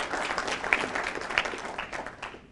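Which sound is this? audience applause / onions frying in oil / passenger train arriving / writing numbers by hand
audience applause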